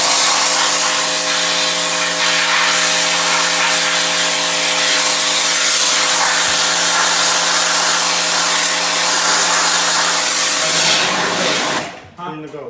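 Loud steady hissing roar of a pressure washer or spray blowing emulsion out of a screen printing screen, running continuously with a tonal hum before cutting off near the end.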